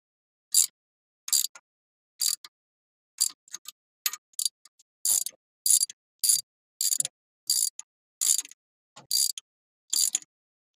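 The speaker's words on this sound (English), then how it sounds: "Working the bolts in now." Ratchet wrench tightening bolts while installing a bracket: bursts of rapid clicking repeat about every half second to second, close and fairly loud, with no talking.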